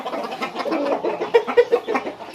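Chickens cluck steadily on a Thai farm, several birds nearby making short rhythmic calls that overlap in a busy, continuous chatter.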